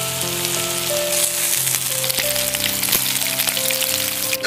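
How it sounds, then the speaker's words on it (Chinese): Rice-stuffed deboned chicken wings pan-fry with a steady, close sizzle and crackle, accompanied by soft tonal music throughout. "再煎上一煎"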